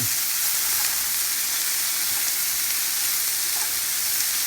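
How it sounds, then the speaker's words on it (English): Mixed vegetables and garlic fry over medium heat in a pan, with a steady, loud, continuous sizzle and hiss that stays even throughout and has no talking over it. "Next, I'm going to add the mixed vegetables."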